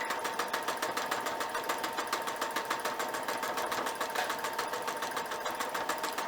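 A sewing machine stitches back and forth through a thick stack of quilt fabric, its needle hammering in a fast, steady rhythm that runs close and continuous without pause.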